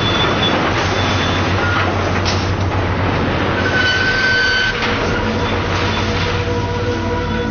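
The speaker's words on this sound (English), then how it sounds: "that's the sound of a crushed automobile being shredded into a million pieces." A crushed car goes through a scrapyard shredder, producing a continuous loud grinding roar with metallic screeching tones rising over it, steady and without pause.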